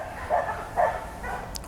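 Two or three dog barks ring out at moderate distance in an outdoor setting, spaced about half a second apart, each short and fairly loud over low background noise.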